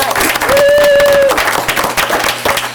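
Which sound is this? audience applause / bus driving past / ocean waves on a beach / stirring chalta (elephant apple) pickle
audience applause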